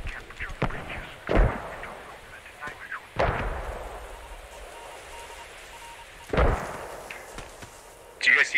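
Artillery shells land in a Post Scriptum battle, with several heavy booming impacts at irregular intervals over a rumbling battlefield and a voice talking.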